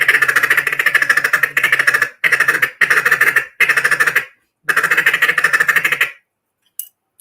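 A duck call blown contest-style in a feed chuckle: loud, close, rapid rhythmic clucking runs in several bursts separated by short pauses, played alone with no talking.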